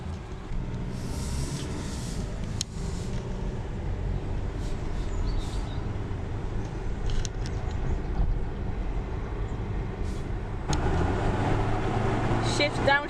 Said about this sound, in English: Downshift's pretty quick, isn't it?